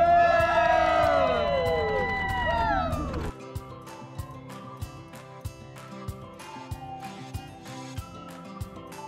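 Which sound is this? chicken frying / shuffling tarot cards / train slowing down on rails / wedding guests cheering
wedding guests cheering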